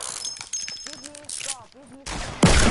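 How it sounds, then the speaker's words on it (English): Gunfire from the PS4 game Fortnite arrives as a few sharp bursts and then a loud, dense volley at the end. Excited voices talk over the shots. "I'm getting shot."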